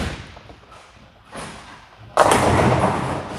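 A Roto Grip TNT Infused bowling ball released onto the lane, a soft thud followed by a dull thump, then a loud sustained rumble as it rolls close by.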